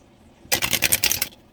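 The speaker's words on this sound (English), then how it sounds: "I'm going to start with this mermaid deck and just kind of shuffle it up" A mermaid tarot deck shuffled on a table, a quick run of crisp card riffles lasting under a second, close and clear with no talking.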